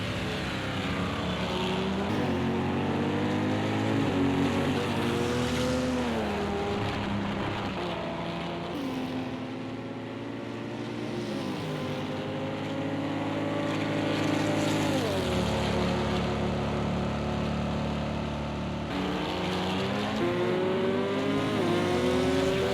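LMP1 race car engines at Bathurst in the video game Project Cars, loud, continuous high-revving drone with rising and falling pitch as gears shift, several cars overlapping close by.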